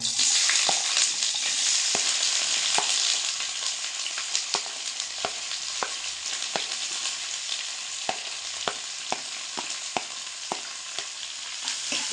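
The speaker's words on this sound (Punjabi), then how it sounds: "ਇਹਨਾਂ ਨੂੰ ਭੁੰਨਾਂਗੇ ਅਸੀਂ ਜਿੰਨੀ ਦੇਰ ਤੱਕ ਲਾਈਟ ਬਰਾਊਨ ਨਹੀਂ ਹੋ ਜਾਂਦੇ" Roughly chopped onions fry in hot oil in a pan, a steady loud sizzle throughout with periodic sharp clicks and scrapes of a spoon stirring, no talking.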